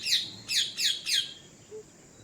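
Parrots call from a tree, four sharp squawks in quick succession with short pauses between them, close and clear over a quiet background.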